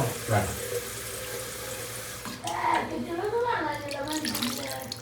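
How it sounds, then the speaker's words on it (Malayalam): Water pours from a container into chicken curry gravy, a close trickling splash that comes in short bursts over a low background hum, while a person talks over it. "കുറച്ച് കൂടുതൽ വെള്ളം ഒഴിക്കുക."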